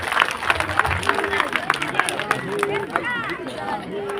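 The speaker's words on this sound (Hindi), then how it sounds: "जोर से ताली बजाओ, ये कौन सा ताली बजाओ।" An audience at a Hindu katha gathering for a yagna claps together, a dense ongoing patter of hands in a large crowd with chatter and background voices mixed in.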